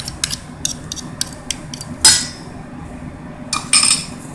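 A utensil clinks against a bowl while very spicy hot pepper sauce is stirred for Chinese buffalo wings, with quick regular taps and a couple of louder scraping clanks, close and alone.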